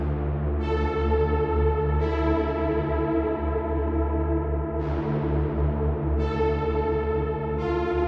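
A long, lush reverb tail from a palace-mode preset washes over a sustained synth tone, with repeated swells and bright shimmering harmonics blooming every couple of seconds, steady and loud throughout.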